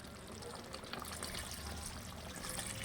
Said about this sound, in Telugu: ముక్క ములిగే వరకు వాటర్ పోసి